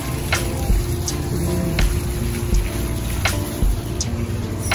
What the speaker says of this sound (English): Look at the pretty waterfall.